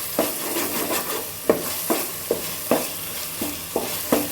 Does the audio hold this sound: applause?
no